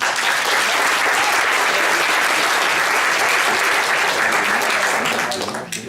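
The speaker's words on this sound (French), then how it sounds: "Vous avez applaudi." Audience applause fills a live stage show, a dense, steady clapping from a crowd that holds loud and even for several seconds before tapering off at the end.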